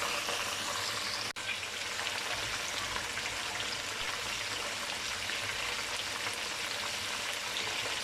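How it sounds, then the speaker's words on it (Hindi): Chicken fingers fry in oil in a pan, a steady, dense crackling sizzle that holds at an even level throughout, with one brief tick early on and no talking. "अब इसको इस साइड से भी अच्छे तरीके से गोल्डन होने तक पकाते हैं"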